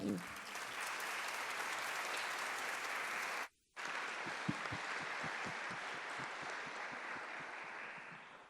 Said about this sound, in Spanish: Les pido un aplauso para darles la bienvenida a nuestras invitadas.